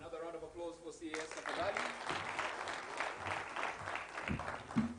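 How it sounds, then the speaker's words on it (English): Audience applause at the 4th Kenya Manufacturing Summit and Expo, a steady wash of clapping rising after a brief spoken opening and continuing at moderate level with voices mixed in. "Another round of applause for CAS."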